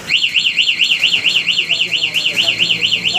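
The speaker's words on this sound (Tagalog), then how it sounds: "Ano ito naman, parking locator lang." A TDD 7-mode alarm fitted on a Yamaha NMAX v1 motorcycle sounds its parking locator mode, a loud, close, rapidly warbling electronic siren that rises and falls in a steady rhythm.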